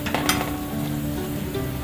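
Onions frying in hot oil for crispy fried onions, a steady dense sizzle throughout with a couple of light clinks near the start, no voices.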